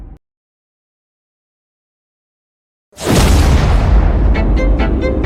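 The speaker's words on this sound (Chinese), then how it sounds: "铁船爆炸了" After a stretch of silence, an animated iron ship suddenly explodes with a loud burst that rolls on as a heavy, sustained roar with crackling debris.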